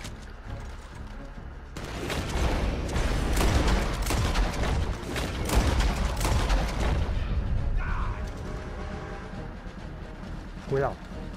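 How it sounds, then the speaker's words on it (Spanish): A train approaches in the Wild West video game Red Dead Online, a loud broadband rumble that swells in and holds steady over several seconds amid sharp gunfire-like cracks, with a voice speaking over it. "Se oye el tren."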